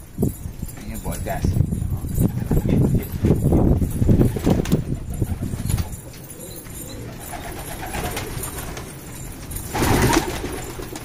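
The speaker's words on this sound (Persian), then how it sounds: "اینم غریب امروز، این کبوتر، اونی که اونجاست" Pigeons at a loft where stray birds are being caught give low cooing calls, mixed with voices talking and some scuffling, fairly close and steady before easing off near the end.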